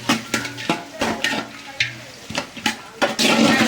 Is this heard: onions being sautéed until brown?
yes